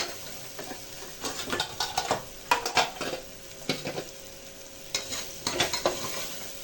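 Chili, mint and coriander sautéing in a pan, a steady low sizzle with repeated scraping stirs of a spatula and light clinks against the pan, close and without voices.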